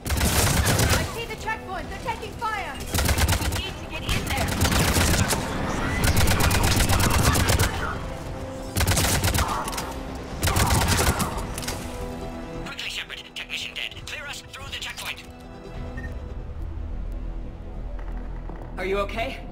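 Gunfire in Mass Effect 3 during a checkpoint firefight, with repeated bursts and rapid shots crackling loudly over a dense game soundscape of music and effects.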